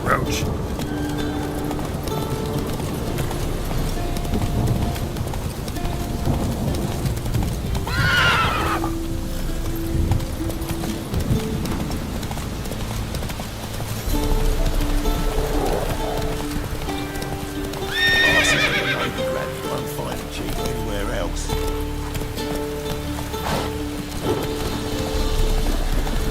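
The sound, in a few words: Geralt's horse Roach galloping in the video game The Witcher 3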